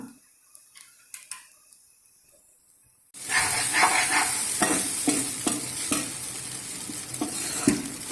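Usuli noodles stirred in a hot pan: after a quiet start, a loud sizzling hiss sets in with repeated scraping and tapping of a spatula against the pan, close by and without speech.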